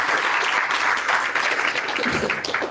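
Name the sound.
applause from audience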